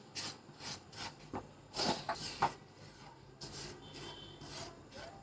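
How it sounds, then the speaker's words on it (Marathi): Dry semolina stirred on medium flame in a pan, giving soft scraping rasps in irregular bursts, close and fairly quiet, with no talking. "आता कोरडाच भाजून घ्यायचा आहे रवा"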